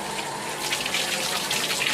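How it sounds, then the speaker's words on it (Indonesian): Water runs steadily from a tap while washing a kris dagger, a loud continuous rushing splash with no speech. "Air mengalir."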